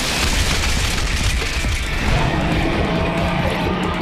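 An anime rock-shot magic spell striking its target: a dense, rumbling crash that stays loud and steady throughout, full of low booming debris noise and gritty crackle with no pauses.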